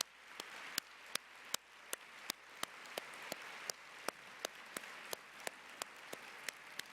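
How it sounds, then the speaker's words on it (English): Slow, sparse clapping from a conference audience at an annual meeting opening session, sharp separate claps at a steady rhythm over a quiet room, no voices. "let's have a round of applause"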